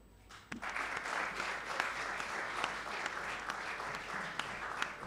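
Audience applause for a contestant at the Miss RDCongo beauty pageant, a dense, steady clapping that begins abruptly and holds, with scattered sharper claps standing out.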